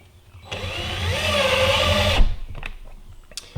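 A power driver sets a drywall screw through a wooden drawer front, a close whining motor buzz lasting under two seconds with rising pitch, then stopping with a thump and a few small clicks.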